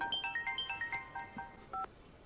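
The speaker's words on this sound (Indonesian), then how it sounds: "Saat manikandan menenangkan Durga, ia mendapat telepon dari tim ahli forensik." A telephone rings in an Indian film scene with a quick run of short electronic melodic tones, bright and fairly quiet, ending in a slightly longer held note.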